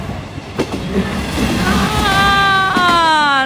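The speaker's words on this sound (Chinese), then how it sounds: "电车来电车了哈，看见电车了，呵呵呵，哎呀，电车走了" An electric train passes close by, rumbling and rattling along the rails with rising metallic squeals, loud and steady, while an adult makes a brief exclamation.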